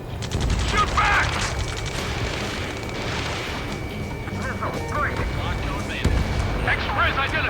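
Rapid automatic gunfire and heavy booms from a combat sequence in the video game Ace Combat 7, loud and continuous, with urgent shouted voices mixed in over the battle noise.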